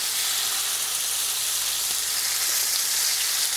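Pork ribs browning in a pan for an Italian Sunday gravy, giving a loud, steady, close hissing sizzle that holds evenly throughout with no voices.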